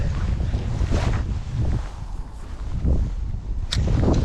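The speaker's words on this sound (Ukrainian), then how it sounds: "Нам трішки заважає боковий вітер." Crosswind buffets the microphone in low rumbling gusts over open water on a canal while spinning-rod fishing, with a faint splash of waves and no voices.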